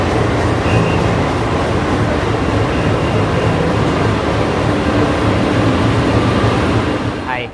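Chennai-Bengaluru AC double-decker express train at a platform, a loud, continuous rumbling roar of rolling stock that holds steady and cuts off abruptly at the end.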